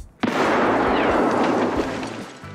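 A grenade explosion in Escape from Tarkov bursts in loud and close after a short quiet moment, followed by a long roaring rumble that slowly fades.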